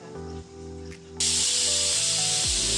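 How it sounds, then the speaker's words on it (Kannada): The whistle on a pressure cooker holding sprouted lentil sambar is lifted open, and after a few soft clunks a loud, sustained hiss of escaping steam bursts out and continues steadily at close range. "ಹದಿನೈದು ನಿಮಿಷ ಆಯಿತು ವಿಜಲ್ ಓಪನ್ ಮಾಡ್ತಿದ್ದೀವಿ"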